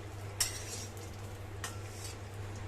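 Dried coconut being stirred and roasted in a pan for ghati masala, with a few sharp scrapes and clinks of a utensil against the pan over a quiet background hum, no voices.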